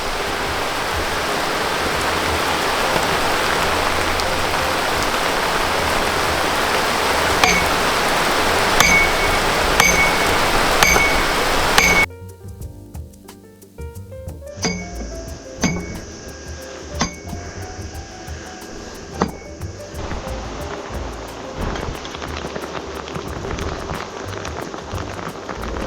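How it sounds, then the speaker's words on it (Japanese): Steady rain pours outdoors at a site where a bamboo dog fence is being built, a dense broadband hiss with scattered clinks. Partway through it drops away sharply, then resumes more lightly with distinct drip and patter hits. "雨降ってきちゃいましたね"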